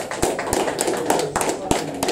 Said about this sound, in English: Big round of applause for Junior Fa